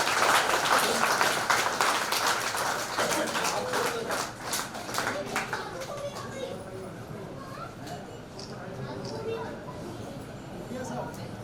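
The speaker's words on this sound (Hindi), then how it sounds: "एक बार जोरदार तालियों से" An audience in a Jhansi museum auditorium breaks into loud applause at a book launch and honour ceremony. The clapping starts dense and close, then thins into scattered claps as murmuring voices take over.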